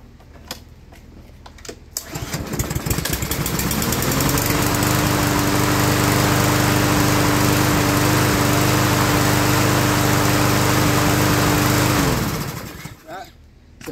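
A Craftsman lawn mower with a 7.5 Briggs engine that had been seized is started and runs. A few clicks come first, then the engine catches and drones loudly and steadily for about ten seconds before cutting off.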